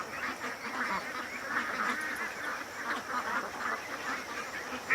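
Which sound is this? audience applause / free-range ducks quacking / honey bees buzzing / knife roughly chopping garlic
free-range ducks quacking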